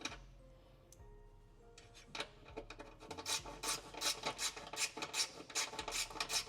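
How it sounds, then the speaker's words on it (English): A hand tap cuts threads into a hole in a Jeep Gladiator frame for rock slider mounting. Faint ticks come first, then a close run of repeated rasping, scraping strokes with clicks as the tap turns in the steel. "you want to make sure you take the tap at least halfway through its length"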